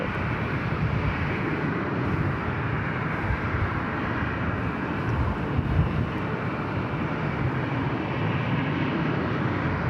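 A Delta airliner departing Los Angeles LAX airport gives a steady, broad jet roar that holds at an even level, far-off and continuous with no talk over it.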